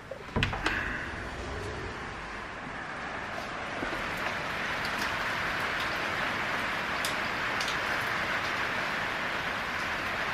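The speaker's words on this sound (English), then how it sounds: "it's bucketing down with rain and it's freezing cold" A door clicks open, then steady heavy rain hisses continuously in Melbourne, Australia, growing fuller and staying loud throughout.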